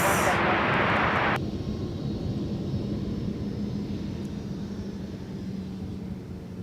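A Southwest Boeing 737-7 jet at Minneapolis airport gives off a steady, low engine roar that holds through the whole stretch, with a brief brighter hiss at the start.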